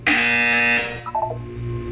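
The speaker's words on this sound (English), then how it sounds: "You will hear a buzzer. When you hear the buzzer, look up at the ceiling." A loud, steady electronic buzzer tone in a Portal 2 test chamber holds for about three-quarters of a second, then gives way to a few faint chirps and a low hum.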